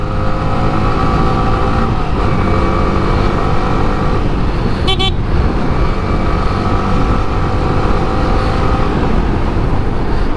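A Yamaha R15 V3 motorcycle is ridden along a road, with a loud, steady engine drone and heavy wind rush close to the rider, plus a brief higher whine midway.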